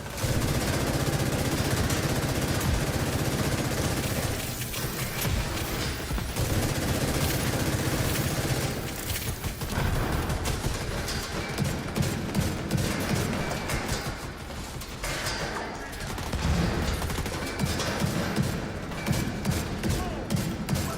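Rapid video game gunfire rattles almost without pause, dense bursts of automatic shots and impacts layered over a constant loud background roar.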